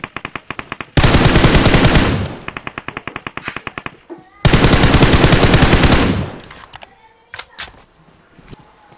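Rapid automatic gunfire from the mobile battle-royale game PUBG Mobile on the Sanhok map crackles in two long, loud sustained bursts with shorter stuttering volleys between them, followed by a few scattered shots and softer game noises.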